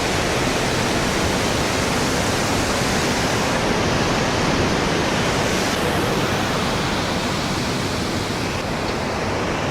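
Loud, steady rushing water roars along a rainy monsoon trekking route to Kedarnath in the Himalayas, a dense, unbroken wash of noise close by with no speech.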